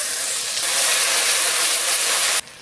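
Ginger, garlic and cumin paste hits hot frying oil tempered with black cumin seeds, giving a loud, steady, close sizzle that drops off sharply near the end.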